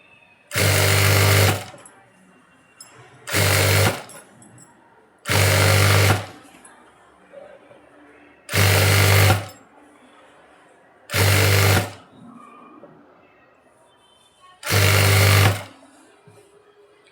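A sewing machine stitches fabric with a 3/4 inch margin in six loud, close bursts of one to two seconds each, separated by quiet pauses with faint handling noise between runs.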